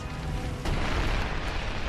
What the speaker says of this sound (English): A massive explosion rocks Forrestal.